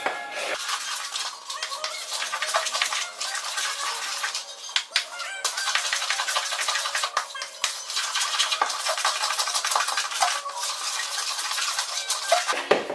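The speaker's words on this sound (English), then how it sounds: "Now after you've been mixing this for a while with a knife" Mince pie pastry dough is worked with a knife in a bowl, producing continuous scraping and clicking strokes, busy and close, with brief pauses between bursts.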